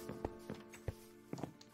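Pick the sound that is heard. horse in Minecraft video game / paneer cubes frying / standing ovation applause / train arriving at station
horse in Minecraft video game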